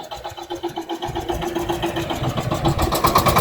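A small single-cylinder engine on a Shifeng 354 tractor chugs steadily after a quiet start, its rapid thumping pulse growing louder and more insistent over a few seconds.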